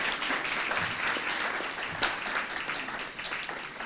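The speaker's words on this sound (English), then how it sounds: "A round of applause for y'all" Audience at a content marketing summit panel discussion claps loudly and continuously, a dense roar of applause with a brief louder burst midway, tapering slightly toward the end.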